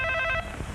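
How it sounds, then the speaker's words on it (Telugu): A telephone rings with a rapid electronic trill in a comedy scene, loud and close, lasting about half a second before it cuts off. "కాసేపు మోగని తర్వాత తీస్తానులే."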